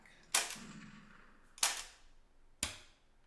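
Three sharp, loud snaps from a Time Crisis arcade light gun with recoil enabled, spaced about a second apart, each with a short fading tail over a low background hum.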